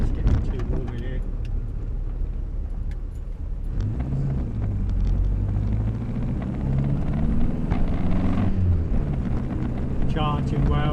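A 1962 Morris Minor on the move, heard from inside the cabin: a steady low engine drone and road rumble that rises and shifts in pitch as the car changes speed, with a person talking now and then over it.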